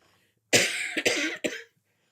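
Three quick, harsh coughs close to the mic, bunched together in a short burst, then silence.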